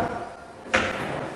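Sliding glass door wheels of an EAGO DZ962F8 steam shower drop into the track with a single short thud midway, otherwise quiet handling noise.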